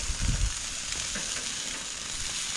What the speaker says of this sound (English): The fire's probably just a little bit too hot, but that's okay. Now that skin is getting crispy.